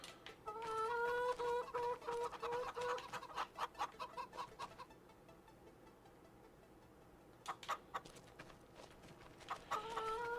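Chickens cluck in a Farming Simulator 25 game farm, a flock of fowl giving repeated close clucks and squawks in bursts, with a quieter stretch before clucking picks up again at the end.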